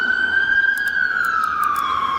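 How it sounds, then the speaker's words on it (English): An ambulance siren passes on a city street near a transit terminal, a loud, steady wailing tone that slowly falls in pitch as it goes by over traffic noise. "Ambulance."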